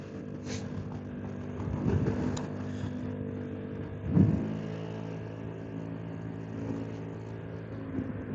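Short-stroke scooter engine revving in faint, brief bursts over a low running hum, with a slightly stronger rev near the middle.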